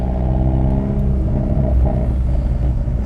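Hyundai Veloster N with a manual gearbox, its exhaust giving a steady low rumble with slight revving swells while driving on a bumpy road, close and continuous with no talking.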